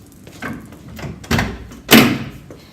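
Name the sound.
door of a 1966 Chevelle being opened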